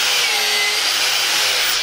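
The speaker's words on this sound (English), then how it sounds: "So Sam is wire wheeling the hammers" Forged hammers are cleaned on a wire wheel, producing a steady, loud, abrasive whirring and hiss that runs unbroken for the whole short span.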